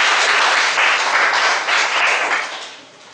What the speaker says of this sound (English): Job well done. Applause for